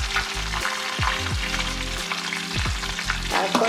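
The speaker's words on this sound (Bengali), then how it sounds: "তেলটা গরম হয়ে গেছে, এখন আমি এর মধ্যে দেব শুকনো লঙ্কা, তেজপাতা, আর দেব অল্প একটু" Dried chilli, bay leaf and mustard seeds sizzle and crackle in hot oil, a close, steady frying hiss with brief stirring knocks and no talking.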